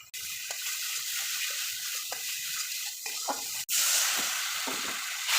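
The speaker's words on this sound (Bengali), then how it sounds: "এই মশলাটা আমি কষে নিই।" Dried chillies and masala frying in a pan, a steady broadband sizzle that holds throughout and jumps louder near the end, with faint stirring clicks underneath.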